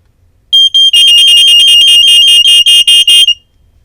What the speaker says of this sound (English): Something kind of interesting is this alarm has a higher pitch compared to that alarm